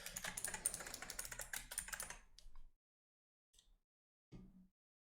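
Rapid clicking of a computer keyboard as notes are typed into a contact record, a dense burst of keystrokes up close that stops, followed by a few isolated faint taps.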